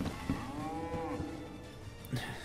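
A cow in the video game DayZ lets out one long, loud moo that fills most of the moment, with a brief thump near the start and another at the end and no talking.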